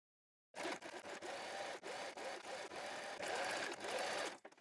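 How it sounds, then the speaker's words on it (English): Sewing machine stitching down the last few inches of bias tape, a close, steady mechanical whirr with a brief pause and a slight speed change before it stops. "We then stitch down those last few inches of bias tape"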